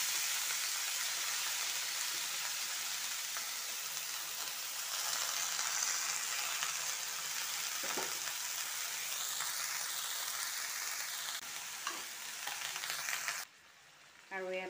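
Cut potatoes and bottle gourd shoots frying in a pan, a steady, dense hiss and crackle of hot oil that runs throughout, with a few faint stirring scrapes near the end.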